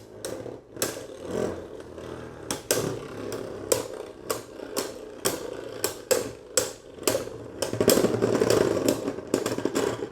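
Beyblade Burst tops, including Fafnir, clash in a plastic stadium with rapid metallic clacks and rattling hits, irregular bursts of collisions over a continuous spinning whir, close and fairly loud.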